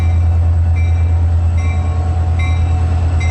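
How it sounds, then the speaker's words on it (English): A train led by an old Santa Fe locomotive rolls past below on A Street with a steady low rumble and faint periodic metallic squeals, continuous and fairly loud throughout. "Here comes the train down below on A Street."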